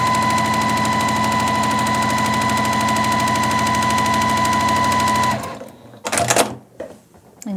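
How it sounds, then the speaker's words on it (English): A sewing machine stitches a churn dash quilt block in a steady, loud continuous run for about five seconds, then stops, followed by a few brief handling clatters. "And yes, I accidentally sewed over my pin because I wasn't watching."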